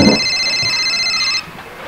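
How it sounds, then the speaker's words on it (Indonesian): A mobile phone left behind rings in an Indonesian comedy series, a steady electronic ringtone that plays clearly for over a second and then cuts off abruptly, leaving quiet room tone. "Loh, handphone Bu Mumu ketinggalan itu"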